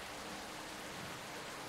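Steady rain hisses in Captain of Industry, an even, faint wash of noise with no distinct drops or pauses.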